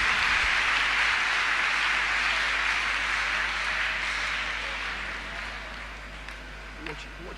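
Congregation clapping during a Thursday counselling and deliverance church service, a broad sustained roll of many hands that gradually fades toward the end, with a low steady hum underneath.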